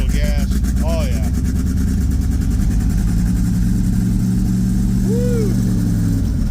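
A big-cam car engine revs under a little throttle shortly after a cold start, loud and close with a rough idle rumble, while people talk and exclaim over it.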